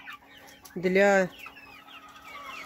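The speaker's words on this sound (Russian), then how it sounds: "Вон петушок кучинский бегает, вот петушок" A Kuchin breed rooster gives one loud clucking call close by, short and bright, with quieter sounds from a flock of chicks and hens around it and a brief word spoken.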